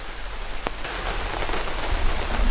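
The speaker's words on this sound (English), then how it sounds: "Well, I guess it wouldn't be a rainforest unless it rained." Rain falling in an Australian rainforest, a dense steady hiss of drops on leaves that builds slightly louder toward the end, with one sharper drip near the start; no voices.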